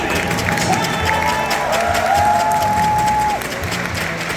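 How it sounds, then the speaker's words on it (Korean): A baseball stadium crowd applauds continuously before a game, dense clapping at close range with a faint sustained tone running underneath. "여러분들 마지막 축하의 박수 한번 부탁드리겠습니다."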